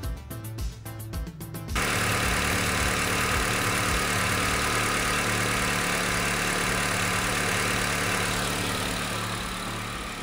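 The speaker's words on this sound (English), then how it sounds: "And with the motor running, the only engine light on is the cold motor because I just started it." A car engine idling just after a cold start, with a steady, even rumble that stays close and constant after a brief choppy start, and no talk.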